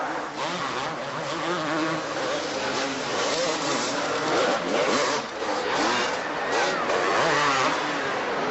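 Supercross motorcycles race around a low flat track at the 1984 Dallas Supercross, their buzzing engines blending into a continuous high-pitched drone that rises and falls at moderate volume over steady crowd and arena noise.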